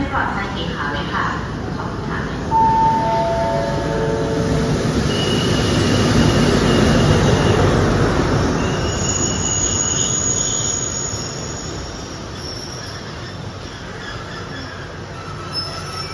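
A long-distance southern-line train pulls into Hat Yai station during the Songkran festival, its wheels squealing in long high tones over a rising rumble that swells and fades as it rolls past. Voices can be heard on the platform.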